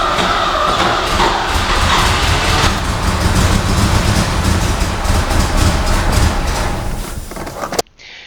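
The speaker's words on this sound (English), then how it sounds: "We will have a look why the car is idling this way." A Mercedes W108 with a 3.5 V8 idles roughly up close, a loud, dense, uneven rumble with no voices, which ends abruptly near the finish.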